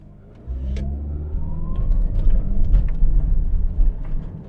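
A 1989 Ford Telstar TX5 Ghia with a 2.2-litre engine accelerates, its low engine drone swelling steadily from idle into a sustained, rising pull heard close from inside the car.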